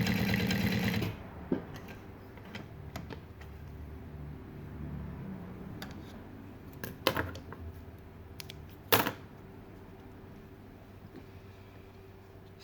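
A Juki DU-1181N sewing machine fitted with a leather needle stitches a small piece of hard, dense leather in a loud, rapid mechanical burst of about a second, then scattered quiet clicks and handling noises.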